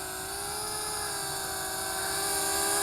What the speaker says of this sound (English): So, little selfie drone. Seems to fly rather long with the battery that it's got there.